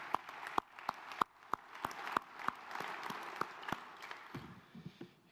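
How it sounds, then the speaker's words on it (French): Scattered applause from a small audience at a general assembly: a handful of distinct claps in a loose, uneven rhythm that thins out, with faint murmuring underneath toward the end. "Vous pouvez l'applaudir."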